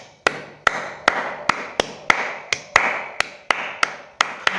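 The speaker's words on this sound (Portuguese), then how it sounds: "Ah, palmas" Single pair of hands clapping in a slow, steady rhythm, about a dozen sharp close claps, each trailing a short room echo, with nobody speaking.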